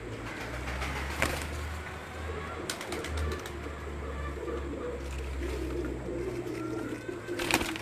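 Pigeons kept at a house in Mirpur, Azad Kashmir, cooing in a steady low throaty drone throughout, with occasional short chirps and wing-flutter clicks close by.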